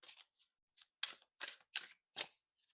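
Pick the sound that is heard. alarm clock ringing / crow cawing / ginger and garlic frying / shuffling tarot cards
shuffling tarot cards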